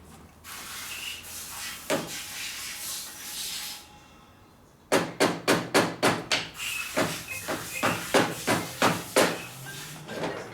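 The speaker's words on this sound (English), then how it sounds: "while I hammer this in" Repeated hammer blows strike in quick rhythmic runs while a part is driven into a 1972 Harley-Davidson Sportster Ironhead clutch primary, a burst of rapid knocks after a brief pause, then more steady strikes close by.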